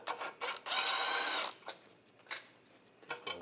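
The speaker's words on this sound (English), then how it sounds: "We're going to take these two nuts off, use a 13mm socket." A 13mm socket wrench working the exhaust flex pipe nuts on a 2014-2022 Chevrolet Trax: quick ratcheting bursts with a longer rattling run, faint and close, separated by quiet pauses.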